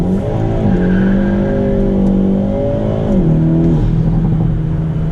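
A Hyundai Elantra N engine roars close by at night in cold weather, revving hard and climbing through gears with a deep, rising growl, pitch dropping briefly at each shift, with a little wheel spin.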